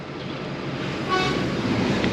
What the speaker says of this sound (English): He got air horns, tones.